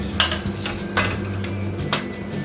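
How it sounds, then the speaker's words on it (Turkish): Whisking a batter in a bowl for profiteroles, with sugar being added: metallic clinks and scrapes of a whisk against the bowl, a few sharper taps at steady intervals, close and alone. "Böyle yavaş yavaş ekleyip çırpıyoruz."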